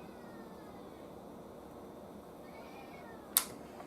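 A cat meows once, short and fairly clear, in a quiet room with a low background hum, somewhere near a 1930s Sonora radio under repair.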